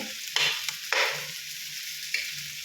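Garlic and onion hit hot oil in a pan while sweet and sour lapu-lapu is being cooked. Three sharp sizzling bursts flare over a steady background hiss, with no talk.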